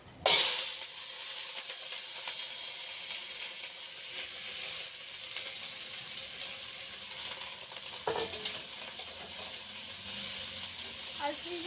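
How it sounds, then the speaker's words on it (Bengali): Cut potatoes fry in a home kitchen pan with a steady, close sizzle and hiss that holds for the whole stretch, with a few soft stirring scrapes near the end. "এই যে একটু আলু ভেজে নিচ্ছি"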